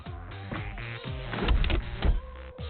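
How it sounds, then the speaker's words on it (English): A Dyson V8 cordless vacuum bin is emptied as its rubber collar slides down the shroud, giving a series of plastic clicks, scrapes and thumps that swell to a louder grinding slide near the middle and end. "as the bin is emptied, a rubber collar slides down the shroud, scraping dirt off"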